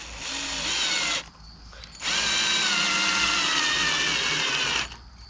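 A power drill drives screws into wood for a backyard track build, whirring in two sustained bursts with a short pause between them, close and loud, with no talking.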